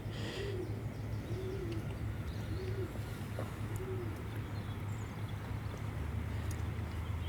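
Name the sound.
pigeon cooing at a quay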